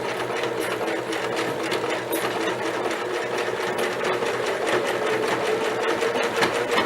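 A sewing machine runs continuously, stitching a wider basic stitch with a fast, even mechanical whir and rapid rhythmic needle clatter, close and steady for several seconds with no talking.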